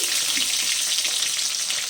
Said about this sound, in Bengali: আমি একটু বেশি তেলেই ভাজছি